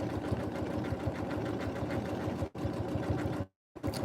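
A Janome M17 sewing machine runs a decorative stitch with a fast steady mechanical whirring and needle thumping, briefly pausing twice before resuming, close and loud.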